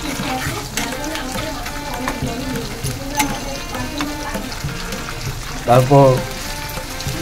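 Dry fish bhuna (chapa shutki) sizzles in a pan with salt while it is stirred, giving a steady close frying hiss with scraping and a louder burst near the end, under a speaking voice.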